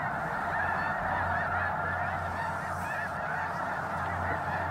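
Dense, continuous honking from a large flock of snow geese resting on prairie lakes in early spring after migration, many overlapping calls at steady loudness with no voices.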